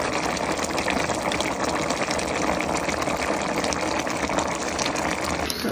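Water pours steadily into a cooking pot of pork for menudo, a continuous close gushing fill lasting several seconds with no talk.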